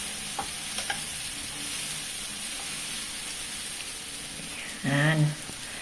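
Shrimp stirred and frying in a pan with vegetables, a steady close sizzle with a few soft scraping stirs, and a brief voice near the end.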